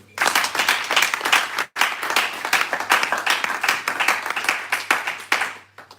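A church congregation at a Pentecost retreat service in Orléans applauds and cheers for Jesus, dense rhythmic clapping filling the room with a brief break before resuming, loud and sustained without speech.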